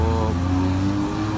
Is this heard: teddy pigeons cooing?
no